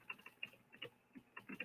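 Quiet, irregular clicks of typing on a computer keyboard, a quick uneven patter of keystrokes close by with no voices.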